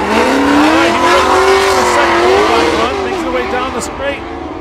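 An LS-powered BMW drift car is thrown sideways at a drift event. The engine roars loudly with rising and falling revs, and tires squeal continuously close by.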